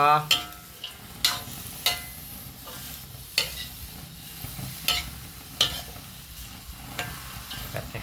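Chinese kale being stir-fried in a pan, a steady frying sizzle broken by regular scraping strokes of a spatula about every second, fairly close and moderately loud, with no talking.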